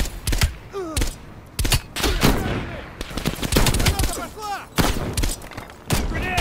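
Rapid bursts of automatic gunfire and heavy shots crack and thud near and loud in Call of Duty Cold War's campaign, dense overlapping volleys with a voice talking faintly underneath.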